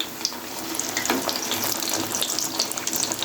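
Bread sizzles steadily in ghee in a pan while a club sandwich is being fried, a close, continuous crackling hiss with small pops throughout.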